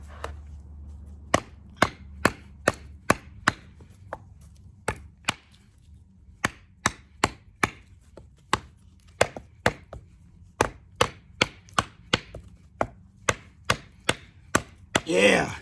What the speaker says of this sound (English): Let's see if we could chop this end off here.